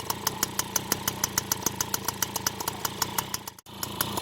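A two-stroke engine idles steadily while warming up, giving a close, loud, even stream of rapid pops with a brief dip near the end. No one speaks.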